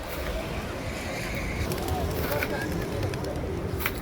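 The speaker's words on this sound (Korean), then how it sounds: "광장 가운데 분수대까지 비둘기가 점령을 했더군요." A large flock of pigeons fills a Moroccan city square around its central fountain, steady cooing and fluttering mixed with a dense murmur of distant crowd voices.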